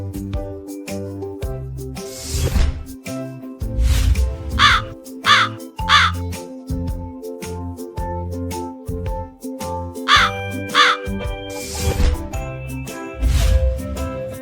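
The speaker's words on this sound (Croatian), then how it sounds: "Ovo je gavran, velika crna ptica sa sjajnim perjem. On ume glasno da grakće i veoma je pametan." A common raven caws loudly several times, harsh repeated croaks in short groups spaced across the stretch, close and clear over faint tinkling background tones.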